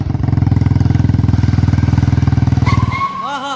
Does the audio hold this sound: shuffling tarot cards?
no